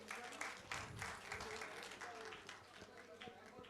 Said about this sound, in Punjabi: ਵਾਸਤੇ ਢੇਰ ਸਾਰੀਆਂ ਤਾੜੀਆਂ।